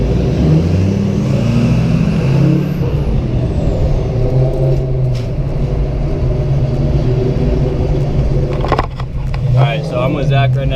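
A Ford Mustang Fox body with newly installed 4.11 gears cruising during break-in, a loud steady low engine drone heard from a nearby car, with a brief clatter near the end.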